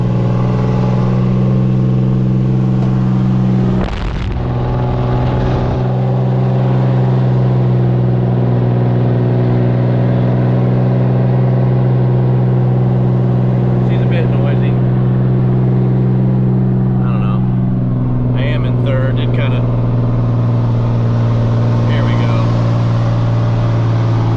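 A loud, steady truck engine drone labors continuously under heavy strain, pulling 21,000 pounds uphill in third gear, with a brief thump early on and faint rattles later.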